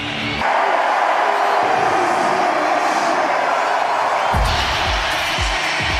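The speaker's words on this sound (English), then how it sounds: "Peyton Manning getting a huge ovation on a big screen" A large arena crowd at an NBA Finals game in Denver gives a sustained ovation for Peyton Manning, a loud steady roar of cheering that holds for several seconds.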